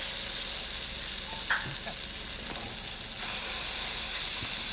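Veggie burger batter, scooped with a 1/3 measuring cup and pressed flat, sizzles steadily on an electric skillet at 350 degrees, a constant soft crackling hiss with a brief pop partway through and no talking.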